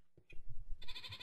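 Goats in Minecraft give a couple of short nasal bleats in quick succession, close and fairly clear over quiet game background.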